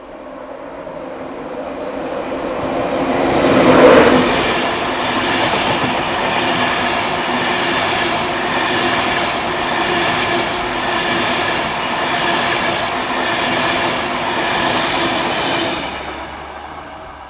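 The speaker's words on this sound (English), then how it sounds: "The approaching train is not scheduled to stop at this station." A steam train rolls steadily through a station without stopping on the Keighley & Worth Valley Railway, its heavy rumble and rhythmic wheel clatter swelling early, then holding loud and even throughout. No voices.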